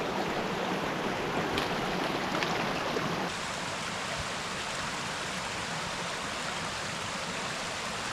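Rushing river pouring over slippery rocks, fed by springs and small waterfalls on a winter camping trip, a steady broadband roar throughout that eases slightly partway through but never stops.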